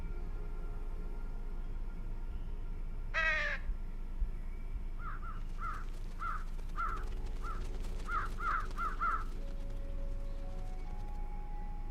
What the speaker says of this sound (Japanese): カラスたちが来ましたけど。